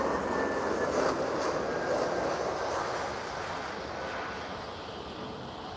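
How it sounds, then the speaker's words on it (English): A Transavia Airbus airliner at Lisbon airport gives off a steady, broad jet roar that holds fairly loud throughout and eases slightly toward the end, with no voices over it. "this one is an Airbus for Transavia"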